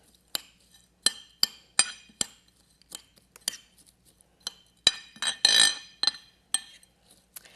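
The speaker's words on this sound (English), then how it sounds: "And then I just stir it up." A spoon stirs yogurt into flaked oats in a bowl, giving a run of sharp, bright clinks and scrapes against the dish, irregular and close, with a brief rougher scraping burst near the end and no talk.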